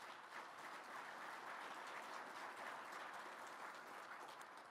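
Applause from a luncheon audience honoring event sponsors, a dense, even patter of many hands clapping, faint and distant throughout.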